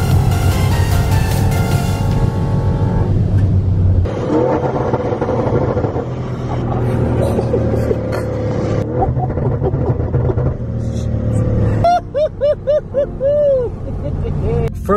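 An Audi RS7 on a speed run, its engine roaring loud and steady from up close with the windows down, accompanied by road and wind noise and some background voices.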